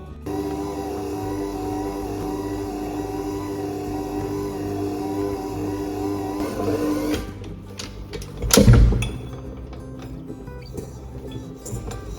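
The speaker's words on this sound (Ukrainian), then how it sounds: "я тісто замісила у своєму планетарному міксері" A planetary stand mixer kneading dough gives a steady mechanical motor hum with a rhythmic whirring drone for several seconds, then shifts and stops with a few clunks and a brief louder thump.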